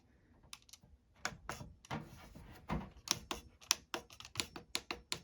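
Buttons on a Chinese diesel heater controller are pressed in quick succession, a string of close, sharp plastic clicks, some in rapid pairs.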